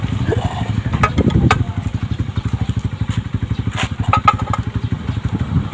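A small water pump engine runs nearby with a loud, steady low thumping pulse and rattling, a few sharp crackles and clicks scattered over it, and a voice heard briefly.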